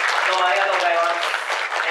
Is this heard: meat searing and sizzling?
no